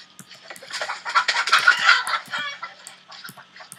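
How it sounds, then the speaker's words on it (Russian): A chicken clucks repeatedly at close range, with a loud burst of calls in the middle and quieter clucks and scuffling around it. "Курочка еще здесь у нас."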